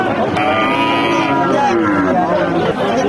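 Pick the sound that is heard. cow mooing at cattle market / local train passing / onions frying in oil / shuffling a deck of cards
cow mooing at cattle market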